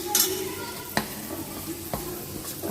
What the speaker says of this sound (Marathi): असं तिखट भाजून घ्यायचं तेलामध्ये.